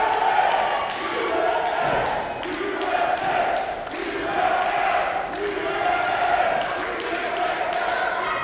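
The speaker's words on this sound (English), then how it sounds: "Crowd chanting USA at the man that would rather claim Canada as a home than his own American hometown" A wrestling crowd at a Jaxon Argos vs Andrew Palace match chants USA in a loud, steady rhythm, each repeated phrase rising and falling in regular pulses over a constant arena roar.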